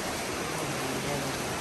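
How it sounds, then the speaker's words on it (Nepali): Heavy rain falls outdoors in Nepal during a power cut, making a steady, dense, loud hiss with no break and no voices. "यहाँ त मजाले पानी पर्दैछ फेरि"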